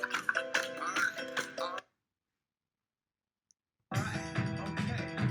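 Music plays from a Bose SoundLink Revolve portable speaker, loud and full for about two seconds, cutting to near silence with one faint tick, then resuming just as full toward the end.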